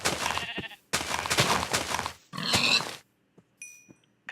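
Grunting pig noises from the Minecraft video game, heard in several loud, close bursts separated by short silences, with a few faint clicks near the end.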